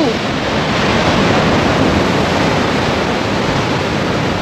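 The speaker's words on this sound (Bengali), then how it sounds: "জলের কি ঢেউ, সমুদ্রের কি ঢেউ" Sea waves breaking on the shore at Tajpur beach, a loud continuous roaring surf wash close by with some wind, unbroken for the whole stretch.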